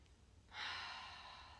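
One long, soft breath during yoga breathing, close and faint, drawn as a steady airy hiss for about a second against quiet room tone, with no talking.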